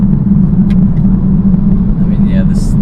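2018 Kia Stinger 2.0T turbo four-cylinder heard from inside while driving, a steady low drone with road rumble, loud and continuous, with brief faint chirps near the end.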